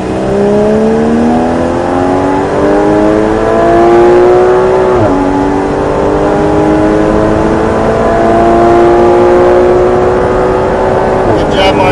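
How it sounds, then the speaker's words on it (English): A Porsche Cayman 718 GTS accelerates hard on a track, its engine note climbing steadily with one gear change midway and another near the end. The sound is loud and close, with a voice talking over it. "squeeze the gas and accelerate"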